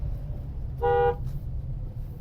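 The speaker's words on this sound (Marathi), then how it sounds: "आता मी तुम्हाला ट्रॅफिक दाखवतो आणि फुल ऑन ट्रॅफिकमध्ये अडकलो आहे" A single short car horn toot sounds close by in a heavy traffic jam after a Mumbai trip, over a low steady rumble of idling vehicles, with no talk.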